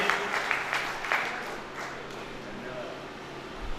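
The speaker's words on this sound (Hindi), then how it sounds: "एक बार उनके सम्मान में तालियां बजा दीजिए।" An audience at a national poetry gathering in Bhiwani gives a short burst of applause for an honoured guest. The clapping fades out within a couple of seconds and gives way to quieter background sound.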